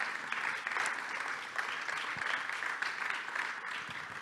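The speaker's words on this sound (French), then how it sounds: "Je pense qu'on peut l'applaudir." Sustained, moderately distant applause from a conference audience at a start-up business keynote honoring speaker Ludovic Lemorand, an even wash of many hands clapping without pause.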